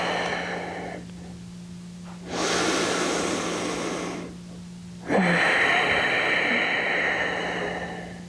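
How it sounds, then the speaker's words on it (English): Deep Ujjayi breathing during a yoga flow, two long, audible breaths in and out with a soft, rushing, ocean-like rasp, close and clear with quiet pauses between. "Take 2 more cycles, deep breaths in, and deep breath out."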